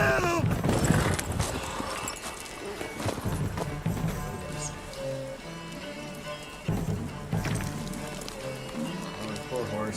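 A horse gallops in the Witcher 3 video game, its hooves clip-clopping in a steady rhythm through busy game sound, with a brief whinny mixed into the noise.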